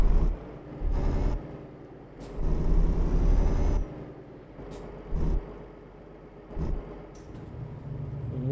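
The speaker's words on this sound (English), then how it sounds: "Drop that parking brake" A truck's air brake in Euro Truck Simulator 2 hisses and releases in several sharp bursts over a low idling diesel engine, each puff loud and close, spaced irregularly across the stretch.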